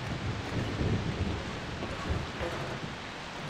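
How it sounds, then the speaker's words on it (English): A thunderstorm in the video game Far Cry 3 pours steady rain with low rolling thunder and gusts, a constant dense hiss with rumbling swells beneath, no speech over it. "Please no thunder storm. No lightning."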